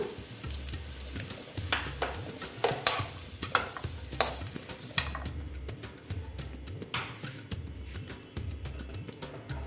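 Pumpkin pieces frying in oil for a niramish kumro dish, a soft sizzle broken by irregular scraping and stirring taps from a spatula in the pan, fairly close.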